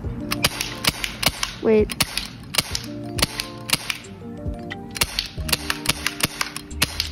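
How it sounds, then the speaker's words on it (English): A Glock 19 BB gun fires in a series of sharp, snappy pops, some single and some in quick pairs, spread irregularly across the clip with a brief spoken word among them. "Glock 19. BB gun."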